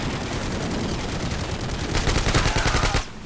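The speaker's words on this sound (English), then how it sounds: "Hip firing a freaking AK." Rapid automatic AK rifle fire from the hip in a Call of Duty match, a dense sustained burst that grows louder and harsher near the end before cutting off abruptly.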